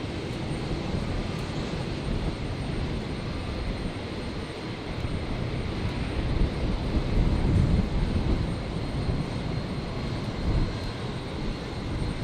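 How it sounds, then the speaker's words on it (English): A Qantas Dash 8 turboprop taxis at Brisbane airport on its single right-hand engine, a steady broadband engine roar that swells slightly midway and holds throughout. "taxiing on the single right-hand engine, as they often do here in Brisbane"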